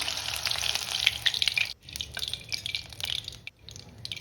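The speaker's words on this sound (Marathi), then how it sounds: "आता हिरव्या मिरच्या ज्या आपण पोटात कट करून घेतल्या होत्या त्या तेलात प्रथम तळून घ्यायच्या" Slit green chillies frying in hot oil, a soft crackling sizzle with brief bubbling pops that drop out twice for a moment, close and fairly quiet.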